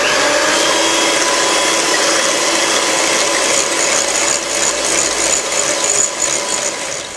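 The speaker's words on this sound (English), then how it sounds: "this we're going to beat up until it's well mixed" An electric mixer beats eggs and sour cream in a bowl, a loud steady motorized whir with a buzzing, rattling edge that runs continuously without talk.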